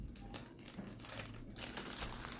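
Paper crinkles and rustles softly, close up, in a continuous series of light crackles and brushing strokes as it is creased and folded, with no speech.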